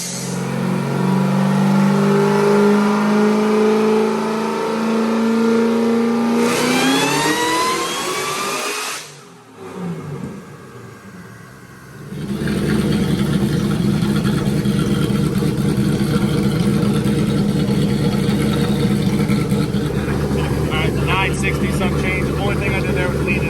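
A supercharged, methanol-fueled engine on a dyno revs high: a loud, rising whine climbs, breaks off into near silence for a few seconds, then returns as a sustained roaring drone at high RPM, with voices faintly underneath.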